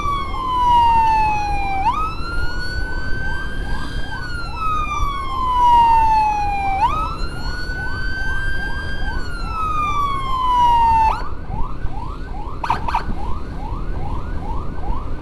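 Loud ambulance siren wailing up and down in long sweeps, then switching to a rapid yelp, close by over traffic noise during an ambulance escort in Tasikmalaya, Indonesia.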